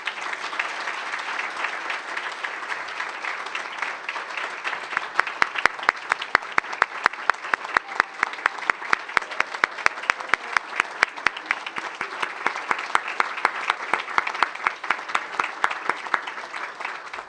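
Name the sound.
audience applauding honorees at hall of fame ceremony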